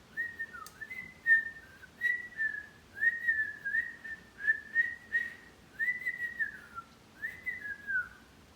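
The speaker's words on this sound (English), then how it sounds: "This is me whistling inwards." A person whistles by drawing air inward, a wavering, breathy tune in short phrases with brief pauses, close and fairly quiet, with a faint hiss of air between notes.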